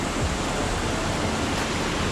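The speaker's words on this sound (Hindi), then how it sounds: "और ये रावणधर का फॉल" Rabandhara waterfall, water pouring and flowing in a constant loud hiss-like roar, close and unbroken, with no voices over it.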